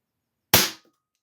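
A Hammerli Single .177 CO2 single-shot target air pistol fires once, a sharp, close pop with a quick hiss of gas that fades within a fraction of a second, with silence on either side.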